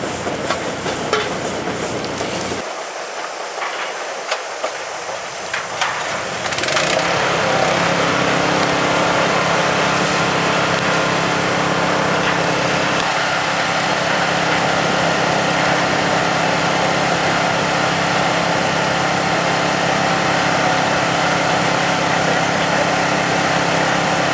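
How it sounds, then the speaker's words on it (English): A drill rig with an 8-inch bore head boring a 65-foot geothermal injection well, a steady loud engine drone with mechanical grinding that swells after a brief lull and continues unbroken. "Here we're starting the drilling of the injection well."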